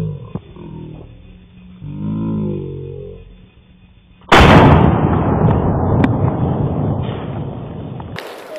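A bowling ball being shot at, one sudden very loud blast followed by a long roaring rumble and scattered cracks, after a stretch of muffled low noise.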